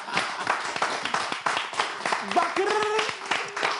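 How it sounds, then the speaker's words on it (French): Studio audience clapping for contestants on a French show, scattered moderate hand claps with a voice talking over them and a brief tonal sound near the end. "on applaudit déjà nos candidats"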